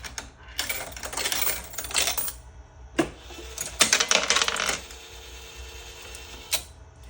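Mechanical clattering and whirring from a Bonanza Million Dice machine's mechanism, coming in two busy bursts of rattling activity with a sharp click between them and a lighter click near the end, close up and without speech.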